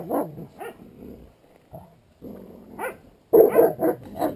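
Hunting dogs on a wild boar hunt bark in short, scattered bursts, with quiet gaps between them. The barking ends in a louder cluster of yips and barks close by.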